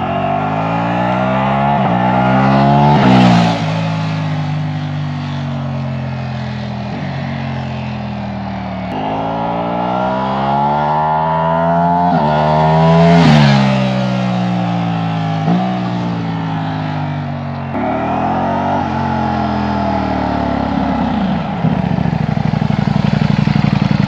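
Several flybys of a 2023 Ducati Panigale V4 S motorcycle, its engine note rising and swelling loud as it passes close, then falling away, with steady high-revving drone between passes and no talk.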